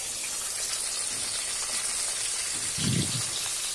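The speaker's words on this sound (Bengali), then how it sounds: "এই যে মাছ ভাজা হচ্ছে।" Fish frying in a pan at a home kitchen gives a steady, close, broadband sizzle, with a short louder burst of spattering near the end; no voices.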